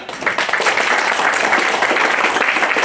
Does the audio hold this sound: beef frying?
no